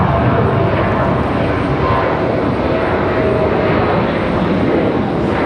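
An American Airlines airliner departs for Dallas Fort Worth from Raleigh Durham airport, its engines producing a loud, steady, broadband jet roar that holds constant throughout.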